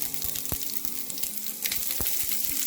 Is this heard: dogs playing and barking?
no